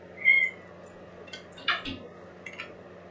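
A cat meows several times, short and fairly close, with quiet pauses between the calls.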